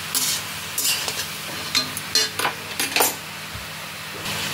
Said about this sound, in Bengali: সব কিছুকে আরেকবার ভালো করে মিশিয়ে নিচ্ছি